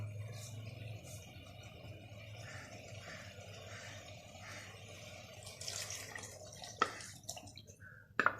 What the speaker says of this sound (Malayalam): ഇനി ഇതിൽ അല്പം കൂടെ വെള്ളം ചേർത്ത് ഒഴിക്കുക